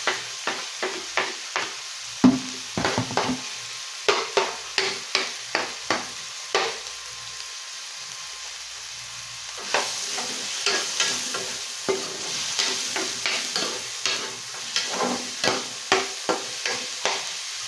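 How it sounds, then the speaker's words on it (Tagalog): Garlic and onions sautéing for spaghetti, a continuous close sizzle with rhythmic stirring scrapes in bursts, a quieter stretch in the middle, then renewed steady stirring, no voices. "So, ilalagay ko na rin guys sa side yung ating bawang at sibuyas."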